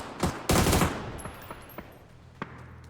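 Gunfire in a competitive PUBG match, with a loud close burst near the start followed by several fainter, scattered single shots spaced across the rest.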